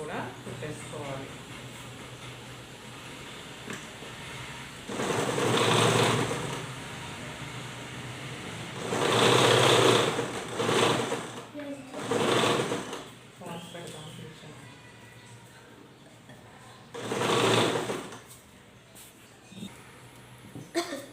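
A sewing machine stitches a frock bodice in several loud bursts of running whir, each lasting a second or two, separated by quieter pauses with room hum.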